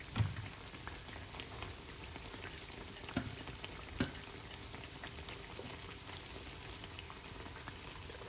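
Jamaican saltfish fritters frying in oil, a faint, steady sizzle and bubbling hiss with a few small pops scattered throughout, heard alone without talk.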